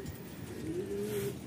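Racing pigeon cooing on a roof, one soft, drawn-out coo heard nearby over an outdoor background hum.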